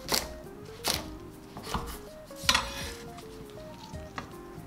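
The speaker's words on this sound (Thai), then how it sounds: "ต้นหอมหั่นท่อนสำหรับผัด" A knife cuts spring onions on a cutting board with several crisp, irregular thuds, close by, over quiet background music.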